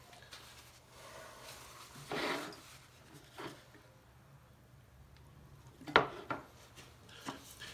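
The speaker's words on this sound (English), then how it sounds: "let's go ahead and clean this up with some denatured alcohol" A cloth rubs over a split wooden bowl, wiping it clean with denatured alcohol, faint intermittent scrubbing strokes with a few soft knocks of wood in a quiet room.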